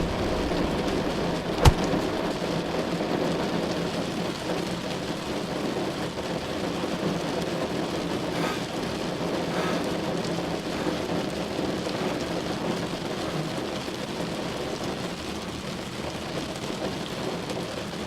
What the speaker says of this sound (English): It's a hurricane!